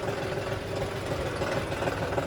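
A John Deere tractor engine idles nearby, a steady low rumbling drone with even mechanical throb and no change in pace throughout.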